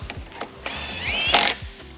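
Ratchet tightening a bolt during a Porsche 3.2 top end rebuild: a quick run of close clicking strokes, then a longer metallic whirring ratchet spin and a sharp burst of noise.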